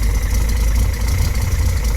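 A 1973 Datsun 240z engine with dual 32/36 DGV Weber carburetors runs at a steady idle, a loud, close, continuous low rumble with an even texture and no talking.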